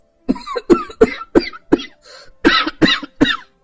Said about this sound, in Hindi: कब से खांस रहे हैं, थोड़ा सा पानी पी लीजिए